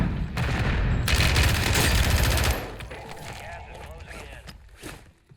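Rapid automatic gunfire from a match of the video game Warzone, loud and dense bursts over the first half, then thinning to scattered, quieter shots and impacts while a voice talks over it.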